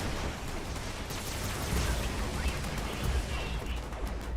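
A player's gun in Fallout 76 fires bullets that curve through the air. The shooting is continuous and dense, a rapid roar of shots that never lets up across the whole stretch.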